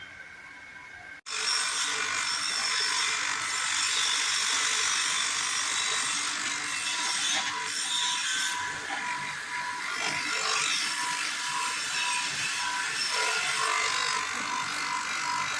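A glass bottle and tube cutting and grinding machine, driven by a single-phase motor and sliding on a ball screw, starts abruptly after a moment of quiet, then runs with a loud, steady high grinding whir and hiss.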